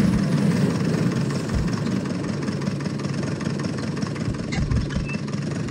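Tractor pulling a straw baler making small square bales in a Polish farming simulator game, a steady low engine drone with continuous mechanical hum throughout, loud and unbroken with no talk.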